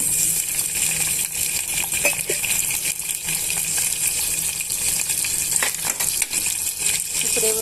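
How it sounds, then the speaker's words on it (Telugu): Onion and green chilli pieces fry in hot oil in a pan, a constant close crackling sizzle with scattered sharp pops and occasional stirring clinks. "ఆయిల్ వేడెక్కాక ఉల్లిపాయ ముక్కలు పచ్చిమిరపకాయ ముక్కలు వేస్తున్నానండి"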